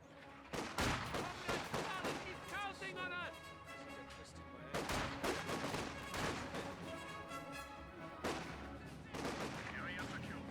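Rifle gunfire in a Company of Heroes 2 battle, with bursts of rapid shots in several loud clusters over sustained battle noise, plus a voice speaking over the action.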